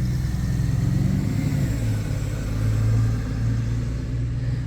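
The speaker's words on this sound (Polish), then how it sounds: "musiałem na chwilkę przerwać, bo autobus jechał" A city bus rolls past nearby, its engine a steady low rumble that swells toward the middle and eases off, with no one speaking.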